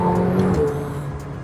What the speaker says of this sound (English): even now we can tap down on the gear, it still has a nice little throaty sound